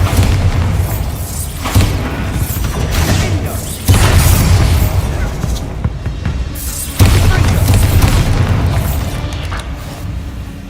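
Heavy booming blasts from the Bombarda explosion spell in a Harry Potter video game, with two loud impacts a few seconds apart over a dense, rumbling background of game sound.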